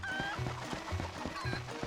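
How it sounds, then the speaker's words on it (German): Chicken in Zelda: Twilight Princess, rhythmic clucking in short repeated bursts at a steady pace, close and clear, with bright game chimes above it. "Komm her, Huhn"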